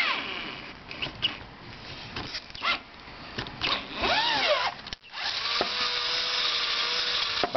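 A battery-powered drill bores a hole for a valve stem in a homemade boost leak tester, with a loud, close whine that rises and falls in bursts, then settles into a steady run.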